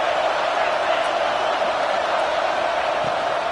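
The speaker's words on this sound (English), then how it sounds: "Decibels rising as the crowd gets behind this defense on 3rd down" A steady, dense roar from a video-game crowd at a college football game between South Carolina and Clemson, swelling behind the defense on third down, holding at an even, loud level throughout without a break.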